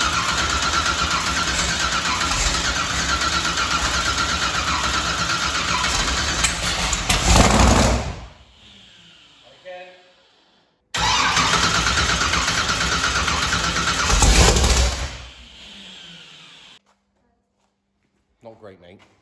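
A 1968 Camaro race car engine cranking with no fuel pump, two long loud rounds of starter churning, each about seven seconds, separated by a short pause, with voices talking nearby.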